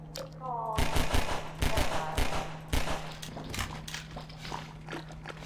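Gunshots in Half-Life 2 ring out as a rapid string of sharp, fairly close cracks, clustered in quick bursts with short pauses between them.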